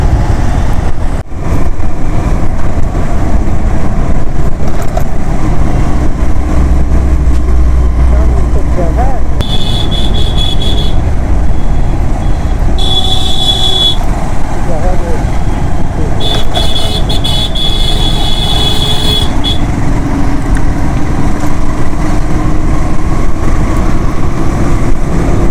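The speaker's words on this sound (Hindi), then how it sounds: "जो हमारे पीछे जो लोग आ रहे हैं लगता है काफी जल्दी में, बहुत देर से हॉर्न बजाए हुए हैं" Car horns honk repeatedly in heavy traffic on the Mahatma Gandhi Setu bridge over the Ganga near Patna, with long sustained toots over a constant loud roar of engines and road noise.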